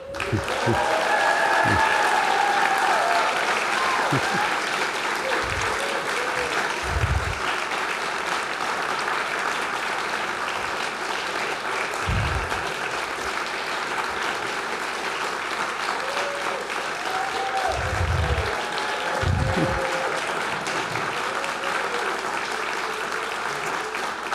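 Sustained audience applause at a Pulitzer Center celebration event, a long dense wall of clapping from a large room, with occasional low thumps and faint voices scattered through it.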